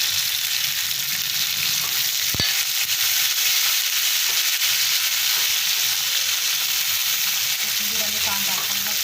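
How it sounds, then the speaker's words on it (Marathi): Coriander and browned onion with turmeric frying in hot oil for a spicy garlic-coconut chutney, a steady loud sizzle and crackle throughout, with a sharp clink partway through and light stirring scrapes. "आणि मग टाकायची सगळी कोथिंबीर तेलातच."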